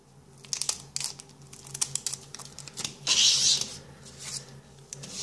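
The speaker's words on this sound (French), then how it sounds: "Alors, je vais ouvrir le premier booster." Crinkly foil wrapping of a Pokémon Diamond & Pearl booster pack crackles and tears up close in sharp bursts, with a louder rustling stretch midway.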